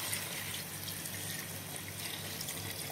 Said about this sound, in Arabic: ننزل عليها بقى كوبايتين مية